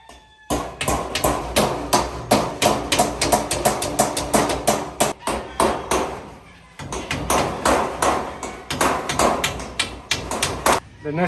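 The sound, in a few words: hammering 1-inch nails through bamboo into wood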